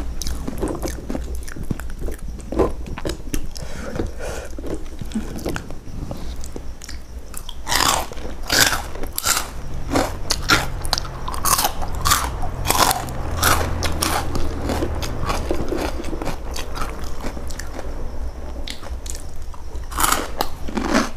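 Crispy pork cracklings from Chiang Mai, eaten with young green chili dip, are bitten and chewed up close, giving loud brittle crunches in a steady run of repeated bites with no talking.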